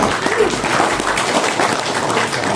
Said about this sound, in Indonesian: Tepuk tangan buat Pak Anwar.